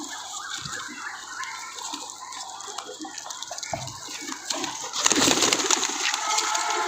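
Pigeons heard amid outdoor ambience, with soft intermittent fowl-like calls and a rustling, fluttering burst near the end.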